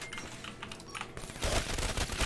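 Automatic machine gun (MG) bursts in the Call of Duty zombies map Ascension, with a dense rapid rattle that swells louder in the second half; no talking.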